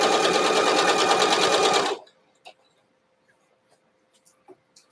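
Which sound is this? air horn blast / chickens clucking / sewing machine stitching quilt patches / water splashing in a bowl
sewing machine stitching quilt patches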